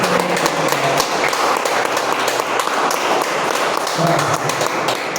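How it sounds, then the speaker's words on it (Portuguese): A church congregation applauds with dense, continuous clapping that fills the whole stretch at a steady level, with scattered sharper claps standing out. "Aplaude Jesus."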